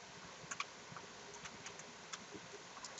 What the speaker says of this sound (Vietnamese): Sau đó thì mình sẽ nhấn Enter.